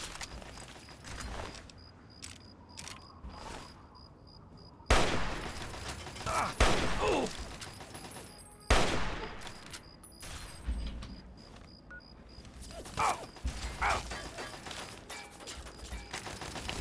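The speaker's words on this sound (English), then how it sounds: "Oh yeah, we're taking fire." Gunfire from enemies in Fallout 3: repeated loud bursts of shots and sharp cracks, close and harsh, coming in clusters with brief lulls between volleys.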